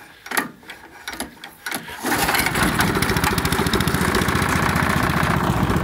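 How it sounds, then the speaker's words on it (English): A small engine is pull-started: a few rough, uneven pulls and sputters, then it catches on one pull and settles into a loud, steady, close running chatter. "Now we'll see if it'll fire up."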